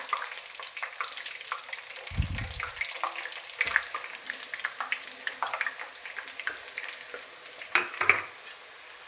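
A ground herbal paste fries in heated oil being cooked for hair oil, making a soft, bubbling sizzle with crackles. A louder burst of frying rises briefly near the start, and faint stirring scrapes follow, with no voices.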